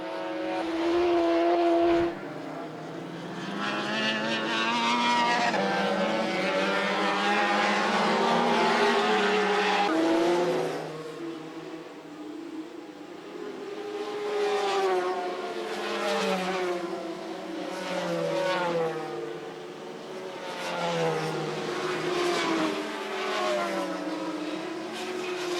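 Racing motorcycles at the Suzuka 8 Hours endurance race scream past at high speed, their loud engines rising and falling in pitch as they pass and shift, with a race commentator talking over the roar throughout.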